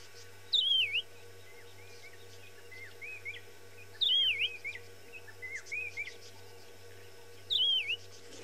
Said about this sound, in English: the other one that we just had, I'm sure you maybe heard it. It was from this particular bird here that we call the white-browed cuckoo